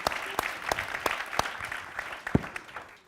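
Conference audience clapping for a speaker at a TF1 event, a sparse burst of applause with distinct, fairly close hand claps that thins out toward the end, with no talking over it.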